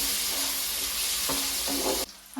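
Tomatoes sauté in a pan with a steady sizzle and a few stirring clacks, the frying cut off abruptly near the end.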